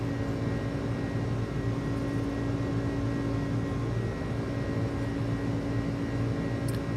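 Steady engine drone inside the iniBuilds A300 airliner in Microsoft Flight Simulator during climb after departure, a constant loud hum with a faint click near the end.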